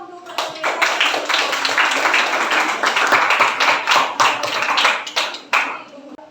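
Schoolchildren in a class clap their hands together in a burst of quick, loud, fairly rhythmic applause. It carries on for several seconds, then breaks off.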